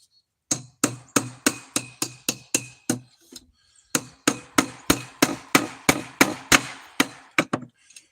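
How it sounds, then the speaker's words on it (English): Hammer driving nails into a very hard wooden board while building a horror movie prop, two runs of steady, evenly spaced sharp blows, close and loud, broken by a short pause. "This board I'm nailing into is hard as nails."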